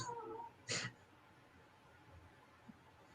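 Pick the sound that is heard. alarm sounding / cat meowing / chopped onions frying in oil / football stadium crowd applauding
cat meowing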